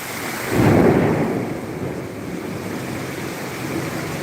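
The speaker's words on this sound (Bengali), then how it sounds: "আসলে জানালাত বইয়া বৃষ্টি উপভোগ করতে গেলে ভালো লাগে।" A thunderstorm with rain, a deep rumble of thunder swelling and rolling away over a steady wash of rainfall, heard from indoors by a window.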